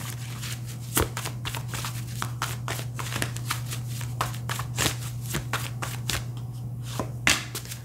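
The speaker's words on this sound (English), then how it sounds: "We will be shuffling on camera today." Tarot cards being shuffled by hand close up, a run of crisp riffling and slapping bursts in an uneven rhythm over a low steady hum, with no talking.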